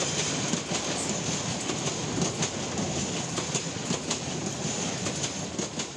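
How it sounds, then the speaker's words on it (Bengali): A train running over an uneven, crooked railway track in Sripur, Gazipur, a steady rumbling roar with faint repeated clicks of the wheels, close and loud throughout. "ছিটকে পড়ার ঝুঁকি নিয়েই হেলে দুলে চলছে ট্রেন"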